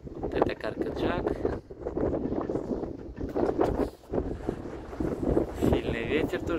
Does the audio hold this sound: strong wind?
yes